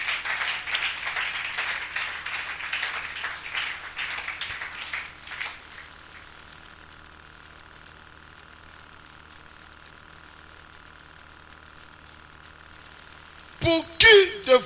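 A church congregation applauds and cheers to praise God during a worship service. The applause is loud and sustained for the first few seconds, then fades to quiet, and a short sharp burst follows near the end.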